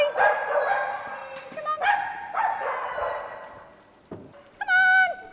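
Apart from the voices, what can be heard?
dogs barking at a doggy daycare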